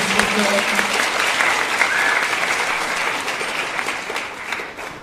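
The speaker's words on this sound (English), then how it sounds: "let's give them another round of applause for the top citizens" An audience at an elementary school promotion ceremony gives a steady round of applause, dense clapping throughout that eases slightly near the close, with some murmuring voices mixed in.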